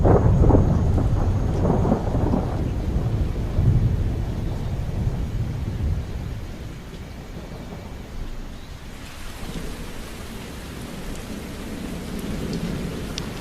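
Heavy rain pours steadily, loud and dense, with deep rumbling underneath early on before settling into a constant hiss.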